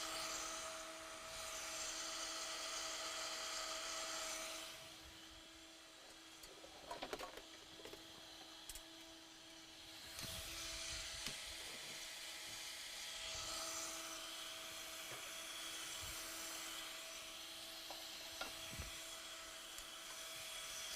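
A KitchenAid blender purees food in a cooking demo kitchen, a continuous high whirring motor that shifts in pitch and load, with faint clatter and background room noise and no talk.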